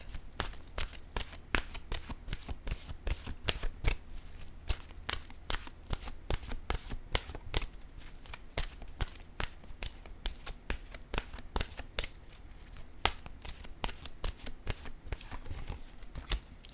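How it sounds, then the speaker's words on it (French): Oracle cards being shuffled by hand make quick repeated riffling snaps in a steady rhythm, close and crisp, with no talking. "Je vais maintenant piger une carte de mon oracle de l'âme intuitive."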